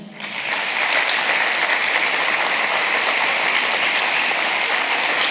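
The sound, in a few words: audience applause at sports awards ceremony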